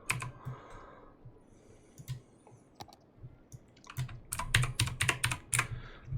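Someone is typing on a computer keyboard. Key clicks come in irregular bursts, sparse at first and then faster and louder near the end, close up with no talking.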